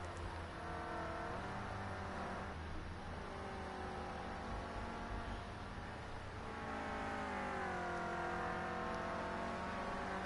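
A touring race car engine revs and shifts through gears at Brands Hatch GP in a racing game, with rising whining pitch sweeps repeating every few seconds, loud and continuous with a low steady drone underneath.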